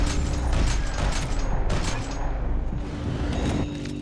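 Gunfire in the video game Max Payne 3: a dense run of repeated shots and booming impacts over steady game ambience, loud throughout.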